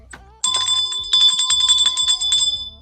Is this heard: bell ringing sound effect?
yes